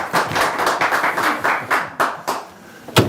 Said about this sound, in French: Peut-être mettez des applaudissements s'il vous plaît